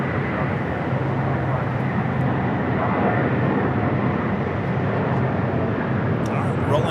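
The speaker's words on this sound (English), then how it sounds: "runway 24 left, clear takeoff" An airliner taking off on runway 24 left at Los Angeles International Airport, heard as a loud, steady, broadband jet roar that holds level throughout.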